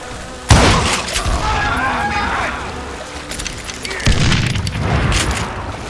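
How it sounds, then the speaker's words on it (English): Gunfire in the Wild West shooter Call of Juarez Gunslinger, with two loud booming shots about four seconds apart over a constant backdrop of game noise and a voice speaking. "Keep shooting. I don't mind. Waste your bullets."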